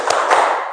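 Students in a classroom give a short rhythmic spirit clap together, a dense burst of overlapping hand claps heard up close.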